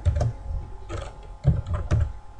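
Fingers type an SQL query on a computer keyboard, a close run of soft thudding keystrokes in uneven clusters, clear and alone without speech.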